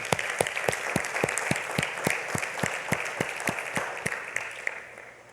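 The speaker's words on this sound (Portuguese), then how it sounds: "Vamos dar um salve de palmas para nós." A church congregation claps in unison during a service, a steady rhythmic beat of sharp, even hand claps repeating about three times a second before tapering off at the end.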